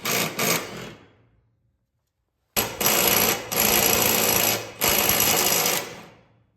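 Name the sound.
impact wrench loosening bolts on a lawn mower blade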